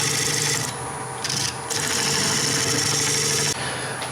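A gouge cuts into a spinning wooden bowl blank on a woodturning lathe, making a loud, rough continuous scraping and rasping over the motor hum, with brief pauses where the tool lifts off the wood.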